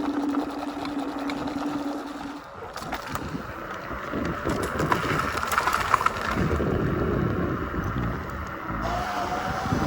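Kaabo Wolf King 72V electric scooter riding outdoors, a steady motor whine with wind and road rumble running throughout, a high tone rising briefly near the start and again at the end.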